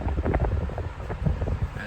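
An antique Hunter Zephair 16-inch electric fan running and oscillating, a close, loud rush of moving air with low rumbling buffeting, steady for about two seconds.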